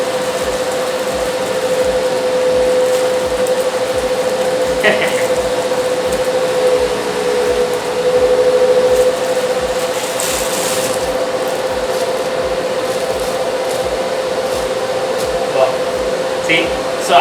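A new dual-fan spray booth runs with both fans on, a loud steady whirring drone with a sustained hum throughout, while a person talks over it now and then.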